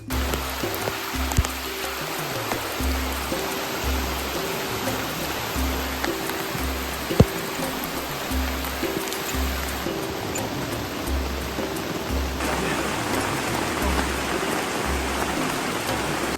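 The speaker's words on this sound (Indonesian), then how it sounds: "hujannya sangat deras sekali" Heavy tropical rain pours down steadily beside a river, a dense continuous hiss of drops on surfaces with a low rumbling undertone and one sharp nearby crack.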